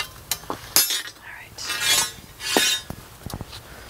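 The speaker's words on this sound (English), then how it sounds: "we're using just a regular hacksaw to cut through this" A regular hacksaw cuts through steel rebar for a DIY grapevine trellis, making a few rasping metallic strokes mixed with sharp clinks and knocks, close and uneven.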